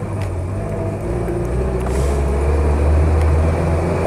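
A Land Rover 88-inch Series III County-spec pulls away, its engine a steady low rumble that swells slightly as it moves off, heard from inside with no talking.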